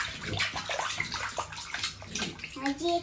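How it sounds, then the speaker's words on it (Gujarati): Water splashes and sloshes in a bathtub as a child plays, a close, uneven patter of small splashes with a voice and an adult talking over it. "પાણી ભરવું હોય તો થોડુંક ભરી લેજે"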